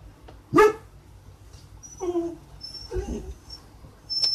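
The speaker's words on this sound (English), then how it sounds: "I do apologize for my dog barking in the background." A pet dog barks in the background of an indoor room, with one loud close bark followed by a few softer yips and whimpers spread over several seconds.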